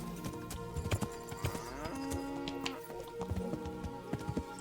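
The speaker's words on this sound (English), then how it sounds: "Horses with a cow." Cattle mooing in the medieval role-playing game Kingdom Come Deliverance, a few sustained low calls amid busy game ambience with hoofbeats and scattered knocks, fairly close and moderately loud.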